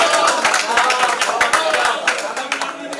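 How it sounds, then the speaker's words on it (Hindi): An audience at a Hindi poetry gathering claps loudly, with distinct sharp hand claps forming a brisk, uneven rhythm that thins out toward the end. "एक बार जोरदार ताली बजा दीजिए"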